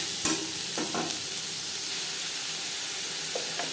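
Chopped onions, four or five medium ones, frying in a pan for egg curry, a loud steady hiss of oil with a few quick scrapes of a spatula stirring early on.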